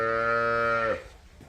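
A cow at a cattle sale gives one long, loud, close moo that holds steady for about a second, then stops abruptly, leaving quiet barn background.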